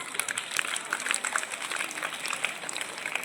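An audience applauds a children's karate performance at Viswabharathi Vidyanikethan school in Buchireddypalem, with a steady, dense patter of many hands clapping throughout at moderate level.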